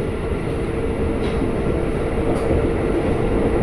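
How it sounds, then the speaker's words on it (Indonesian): A KRL commuter train bound for Bogor passes through a station at night, giving a loud, dense, continuous rumble and rattle of wheels and carriages close by, with no talk over it. "Ada lagi nih komuter Tujuan Bogor."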